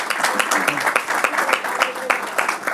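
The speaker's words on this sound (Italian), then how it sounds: "Chiedo se si può fare un applauso a queste signore, signori" A crowd applauding with dense, steady clapping that keeps an even level throughout, some voices faintly mixed in.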